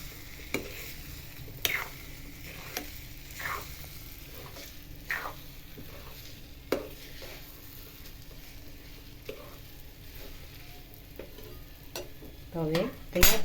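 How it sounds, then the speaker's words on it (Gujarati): Sweet sev (meethi sev) is stirred in a pan with sugar powder, giving soft repeated scraping strokes over a faint sizzle, quiet and close, ending with a few louder clatters. "હવે તેને નોર્મલી મિક્સ કરી નાખીશું।"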